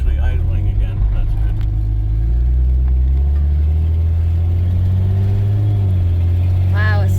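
Car engine idling steadily after an exhaust repair made with tape, a continuous low rumble running close and loud throughout, with faint voices in the background.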